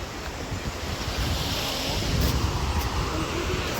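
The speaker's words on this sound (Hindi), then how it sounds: "ये देखो नदी के बहाव।" Flowing river water in Uttarakhand, a broad continuous rushing wash with steady turbulence and some wind buffeting on the microphone, constant and fairly loud with no voices.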